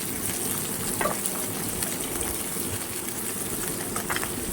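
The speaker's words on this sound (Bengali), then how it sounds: "কালো জিরে ফোড়ন দিলাম" Black cumin seeds are tempered in hot oil with whole garlic for a bottle gourd and fish head curry, giving a faint, even sizzle with a couple of soft stirring clicks.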